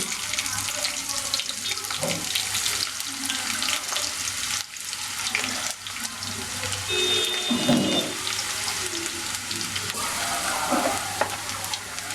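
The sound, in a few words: chopped onion frying with cumin seeds in hot oil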